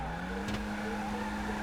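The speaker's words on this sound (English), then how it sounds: "launching the car off, waiting for it to grip" A Fagaloa launching hard in GTA 5, its engine holding a steady drone while the tires scrabble and then grip, with a short burst of tire noise near the start and no voices.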